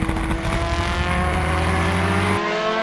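A 1973 Brabham BT40 race car roars past loudly and close on a racing circuit, its engine a sustained, harmonically rich howl that cuts off abruptly near the end.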